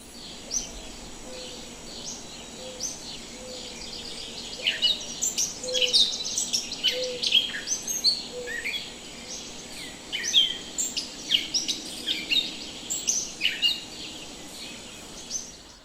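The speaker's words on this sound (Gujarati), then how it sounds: "સરસ મજાનો પક્ષી, પ્રાણીઓ, ગાયોનો એ રીતના અલગ અલગ અવાજ આવે છે" Birds chirp and tweet in a quiet, rocky, tree-planted area around the Zariya Mahadev temple, with scattered short calls building into busier bursts of overlapping twitters against a hushed background, with no talking.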